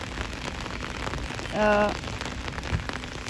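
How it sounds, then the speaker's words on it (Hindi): Heavy rain falling in the mountains, a dense continuous hiss of drops on surfaces, with a brief tonal hum rising over it midway. "पहाड़ों पे इस वक्त हो रही है शदीद किस्म की बारिश"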